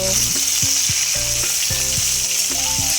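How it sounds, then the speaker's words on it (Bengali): Green chillies and tomato pieces fry in a pan for a vegetarian kakrol dish, giving a loud, steady sizzle with repeated scrapes and knocks of stirring throughout. "দিয়ে এগুলোকে আমি ভালো করে ভেজে দিচ্ছি"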